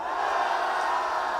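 A crowd at a political rally launch event roaring a sustained cheer on command, a loud continuous massed shout filling the whole moment.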